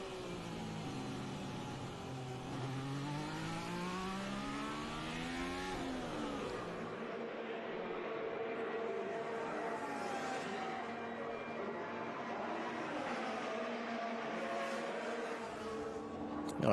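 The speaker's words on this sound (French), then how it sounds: "Alors Charles Leclerc est en piste, ça y est, on a aussi réparé la monoplace du Monégasque." A Formula 1 car circulates at Mexico Grand Prix practice, its engine note sweeping up through the gears and then dropping as it fades into the distance, while a commentator speaks over it.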